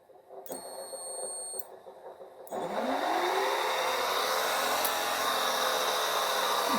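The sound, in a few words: electric motor spinning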